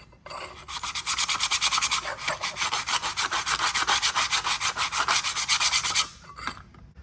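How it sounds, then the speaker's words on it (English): Emery cloth rubs back and forth over a motorcycle part to deburr it, a steady run of quick, even rasping strokes, close and fairly loud, then stopping abruptly with no talk. "quick deburr with a piece of emery"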